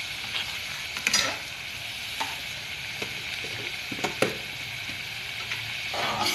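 Onions and chillies fry in a pan as ginger-garlic paste is added and stirred in, giving a steady soft sizzle with occasional spoon scrapes and clinks, close and moderate in level, with no talking.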